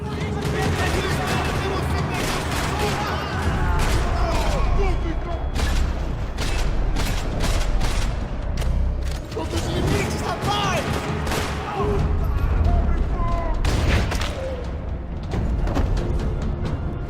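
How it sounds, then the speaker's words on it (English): Rapid, crackling bursts of gunfire echo repeatedly in a parking lot in the game Max Payne 3, dense volleys overlapping with booms and mechanical clatter under continuous game sound. "Another parking lot rattling with gunfire."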